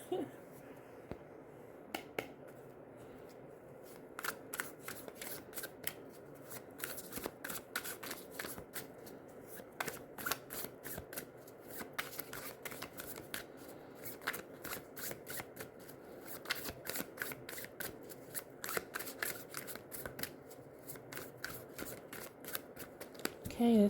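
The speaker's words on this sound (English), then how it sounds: "I'm going to start shuffling." Playing cards are shuffled by hand in a quiet room, a long run of rapid crisp riffles and flicks coming in uneven bursts, close and fairly soft, with no talking.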